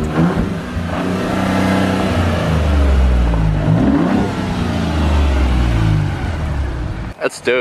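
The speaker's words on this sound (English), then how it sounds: "the blow-off valve they have on it is fucking loud" A 2018 Ford Raptor with a turbocharged engine and a loud blow-off valve revs hard close by, its deep roar rising and falling over about seven seconds under people talking, then cutting off abruptly near the end.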